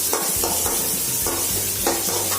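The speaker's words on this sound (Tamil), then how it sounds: "எல்லாமே ஹாஃப் ஃப்ரை மாதிரி இருந்தால் போதும், ரொம்ப டீப்பாக ஃப்ரை பண்ண வேணாம்" Turmeric and spices half-frying in oil in a pan while cooking mint mango rice, a constant close sizzle broken by repeated scraping strokes of a spoon stirring, a few light clinks against the pan.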